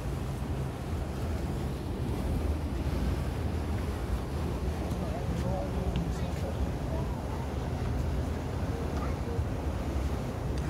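Sea water washing steadily against a water bus out on the bay, a continuous broad rush mixed with engine rumble and wind buffeting the microphone, with no talk.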